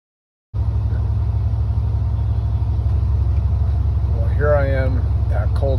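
A car engine starts abruptly and settles into a steady, loud, close idle with a continuous low rumble and even throb, running alone without talk.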